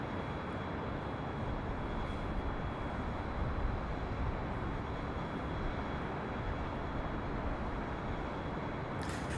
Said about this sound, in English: That is Delta Airlines Flight 2997 heading to Atlanta, Georgia. It's an A321, just a year old.